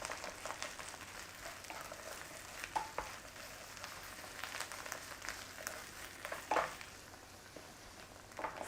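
A mozzarella and spinach mixture frying in a pan, giving a quiet, steady sizzle and crackle with a few small pops and stirring scrapes, and no speech.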